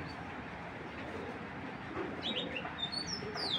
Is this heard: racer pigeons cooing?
yes